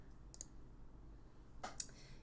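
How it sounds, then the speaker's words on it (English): Two quick bursts of clicking, likely mouse or keyboard clicks during a streamed Stardew Valley game session, sounding close and fairly faint over a low steady background hum. "I apologize for the incessant clicking."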